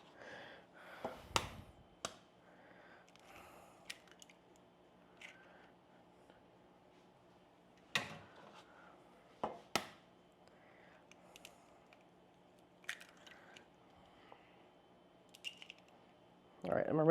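Eggs cracked one after another into a bowl, several sharp taps and shell snaps spread apart in a quiet kitchen, with soft talk between them.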